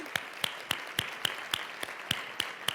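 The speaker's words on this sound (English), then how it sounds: "We can clap again if you'd like as they're exiting." An audience claps at a formal ceremony as honored guests leave, about ten evenly spaced sharp claps standing out over a soft room background, with no talk.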